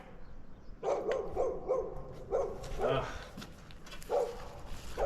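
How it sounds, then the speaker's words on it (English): A dog barks in short repeated bursts at a moderate distance, several barks spread across the clip with background noise throughout. "What's that dog going on about?"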